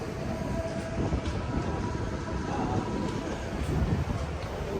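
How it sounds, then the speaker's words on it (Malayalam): Train rumbling into Yesvantpur station in Bengaluru, a steady low roar of wheels and carriage noise heard from inside the coach, fairly constant throughout with no clear voices. "ട്രെയിൻ ഇപ്പോൾ യശ്വന്ത്പൂരിലെത്തി."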